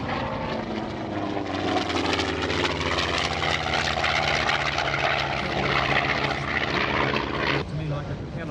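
A vintage propeller aircraft flies at an airshow, its engine drone loud and steady with a pitch that shifts as it passes, cutting off near the end.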